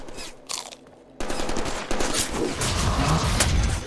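Rapid automatic gunfire from Summers' heavy gun in an X-Force Deadpool video game, a brief burst then a sustained loud rattling volley after a short pause.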